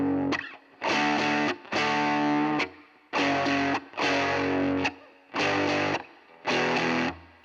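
Distorted electric guitar power chords are played in a broken rhythm figure, with short loud chord bursts separated by muted gaps in an uneven, stop-start pattern. The guitar is close and heard on its own.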